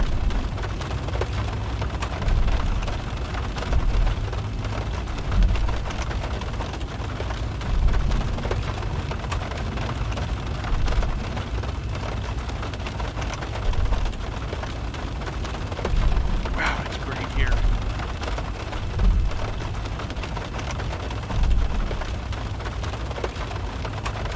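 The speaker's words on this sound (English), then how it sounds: "the rain hitting the plane is just pretty" Rain beats steadily on an airliner in the X-Plane 12 flight simulator, a Boeing 737, making a dense continuous patter with faint recurring thumps and no talk.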